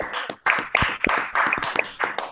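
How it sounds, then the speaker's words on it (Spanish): Scattered, irregular hand claps from a small audience at a talk on marathon history, close and uneven, with a few shouting voices mixed in. "liberamos los micrófonos y le damos un aplauso a Garay, por favor."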